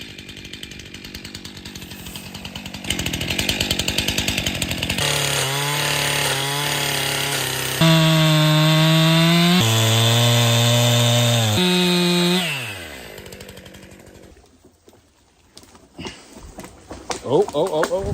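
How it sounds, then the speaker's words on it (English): A chainsaw clears a forest path in the wild, revving up loud and close in sustained bursts with changing pitch as it cuts, then idling down and stopping; faint sounds follow. "I need to chainsaw and clear this out"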